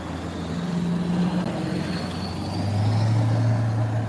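A loud truck rolls past near a street intersection, a steady low engine rumble that swells and grows heavier toward the end, with constant traffic noise behind it.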